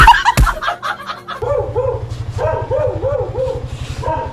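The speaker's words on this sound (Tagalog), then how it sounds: "Siringgong, layo ko pa na tahol-tahol ka na dyan." A dog barks in quick repeated yips and woofs, close and fairly loud. Its voice rises into a whimpering, rhythmic barking run partway through.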